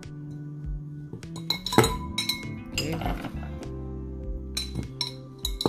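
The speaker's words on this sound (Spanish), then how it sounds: "tenemos los tres hielos ya ahí" Ice cubes clink and rattle into a glass while a Manhattan cocktail is built, with several sharp, close glassy knocks in a burst, then a few scattered clinks; a short spoken word comes in briefly.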